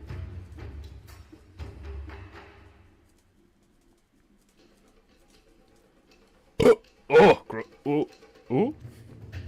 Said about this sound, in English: It was a burp and a half.